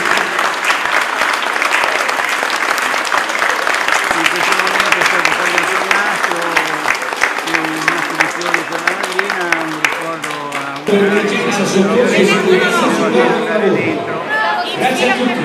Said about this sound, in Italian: con un caloroso applauso in ricordo di Sandro Usai